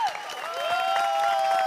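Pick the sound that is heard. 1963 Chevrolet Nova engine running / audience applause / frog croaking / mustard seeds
audience applause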